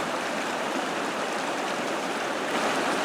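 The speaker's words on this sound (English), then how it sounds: "walk down the little stream on the other side to where it dumps into the river" A small woodland stream rushes steadily down into a river in a forested valley, a loud, continuous close-up wash of flowing water with no voices.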